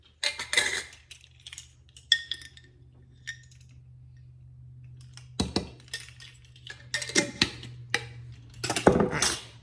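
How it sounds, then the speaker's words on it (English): Gingerbread cookie dough ingredients are mixed in a bowl, giving scattered clinks and taps of a utensil against the bowl in quick bursts, with quiet gaps between them and a faint low hum underneath. "we're just gonna add this to this and then mix it until you cannot see any more dry ingredients in the flour"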